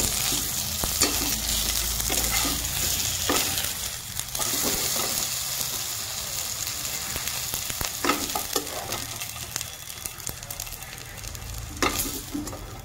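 Besan-coated ridge gourd fries in oil with a loud, continuous close sizzle, broken by occasional scraping stirs and clicks of the utensil against the pan, and no voices.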